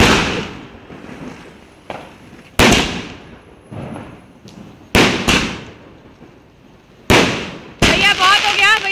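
Firecrackers go off outdoors at a wedding celebration, a series of loud sharp bangs spaced a second or two apart, each with a crackling decay, and people's voices are heard between them.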